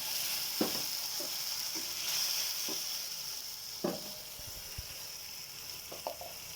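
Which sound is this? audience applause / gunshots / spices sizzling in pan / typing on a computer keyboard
spices sizzling in pan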